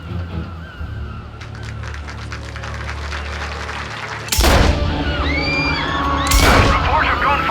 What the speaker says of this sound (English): Reports of gunfire at the Turnbull rally